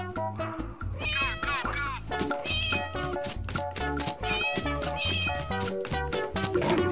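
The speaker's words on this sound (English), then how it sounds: "cat." A cartoon cat meows in an animal-sound sequence, with several sweeping meow calls rising and falling over loud, continuous musical backing throughout.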